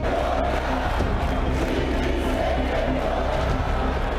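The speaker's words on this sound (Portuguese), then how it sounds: "O torcedor do Vasco comemora." A Vasco football crowd roars in a stadium, a dense, steady wall of cheering and chanting that holds at a constant loud level throughout.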